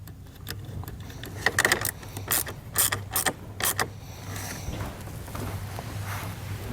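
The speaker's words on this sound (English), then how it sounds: "I'm just trying to hold everything in place here while we tighten the nut back down." Tightening a nut while fitting a battery charge line kit on a 2020 Ford Ranger gives a quick run of ratcheting clicks and metallic creaks, close by over a low steady hum, with short bursts separated by pauses.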